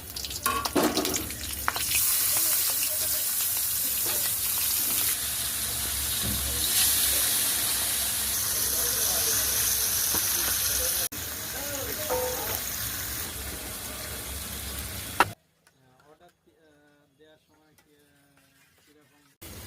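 Marinated hilsa fish pieces go into hot oil tempered with black cumin and green chilli, starting a loud, broad sizzle with clatter that runs for about fifteen seconds before cutting to quiet, muffled sounds.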